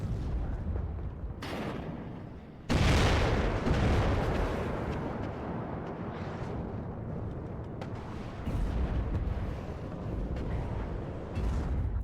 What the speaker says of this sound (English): B2 Spirit just dropped some bombs.